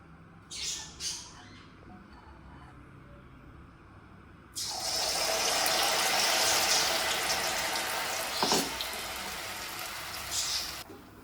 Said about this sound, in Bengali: দেখো এবার আমি মালপোয়াগুলো ভেজে নেব।